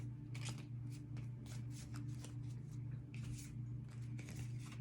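Tarot cards are shuffled and drawn by hand, producing soft papery riffles and flicks in irregular bursts, close and quiet over a steady low hum.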